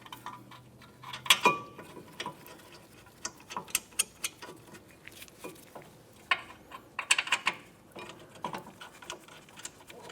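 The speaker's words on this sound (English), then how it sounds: "Start in each of your caliper bracket mounting bolts." Metal caliper bracket mounting bolts are threaded in by hand on the front brakes of a 2006-2011 Honda Civic, giving scattered close ratcheting clicks and small metallic taps with no talking.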